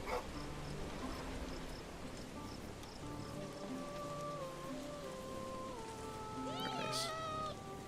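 Game-like meows of a cat in the video game Bellwright ring out over a patter of rain-like ambience, with a rising synthetic chirp near the end and a soft murmur of voices underneath.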